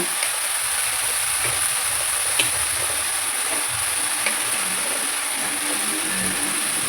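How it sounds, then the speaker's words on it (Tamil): Brinjal and vegetables for kadhambam sambar are sautéed in a pan, a loud, steady hiss that barely changes, with a few faint clicks. "கத்திரிக்காய் போட்டு வதக்கணும் ஃப்ரெண்ட்ஸ்"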